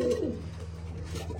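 Male pigeons resting in a home pigeon loft coo softly in the first half-second, then give fainter murmurs over a steady low hum, with no talking.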